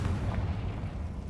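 A Confringo blasting spell is cast in the Hogwarts Legacy video game, giving a loud, continuous low booming rumble that fills the whole moment with no talk over it.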